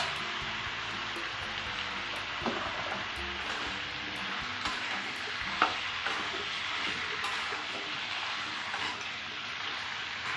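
Cut papaya and potato pieces stirred in a sizzling pan of mutton curry, a continuous frying hiss broken by repeated scraping and clinking stirs, close and steady, with no one talking.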